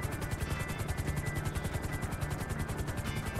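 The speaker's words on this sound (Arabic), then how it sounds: "اكو هليكوبتر" Helicopter flying in a video game: a fast, steady rotor chop with a rumbling engine drone underneath, holding close and constant throughout without speech.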